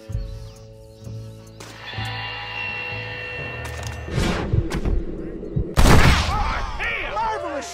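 Gunfire in a Red Dead Redemption shootout, a western video game battle: a few loud, sharp bangs land in the second half, with one especially heavy blast, over game music and ambient noise.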